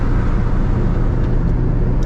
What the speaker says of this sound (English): I haven't had a single hiccup out of this car, and it's just been driving smooth all day